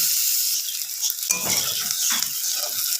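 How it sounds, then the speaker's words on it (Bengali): Chopped onions fry in hot oil with cumin, giving a bright, continuous sizzle close up, broken by a few scraping stirs against the pan. "পেঁয়াজ কোচানো দিয়ে দিচ্ছি। এই পেঁয়াজটা ভালোভাবে লাল করে ভেজে দেব।"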